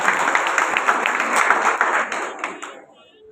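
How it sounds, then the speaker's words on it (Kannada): A crowd claps loudly at a community award event, a steady dense patter of hands for about two and a half seconds before tapering off to quiet. "ನಾವು ಸಮಾಜದ ಪರವಾಗಿ ಜೋರ ಚಪ್ಪಾಳೆ ಮೂಲಕ"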